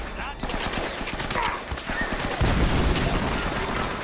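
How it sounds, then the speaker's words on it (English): Rapid bursts of gunfire from Uncharted: Drake's Fortune gameplay, dense and loud, mixed with game sounds and a heavier low rumble in the second half. "that was just panic shooting"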